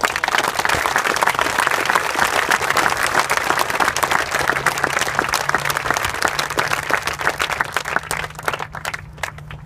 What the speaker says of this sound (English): So I think we just need to give our coaching staff a round of applause.